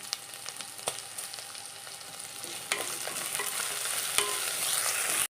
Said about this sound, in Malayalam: മീൻ ഇട്ട് കൊടുക്കാം. നമ്മൾ കഴുകി വൃത്തിയാക്കിയതാണ്.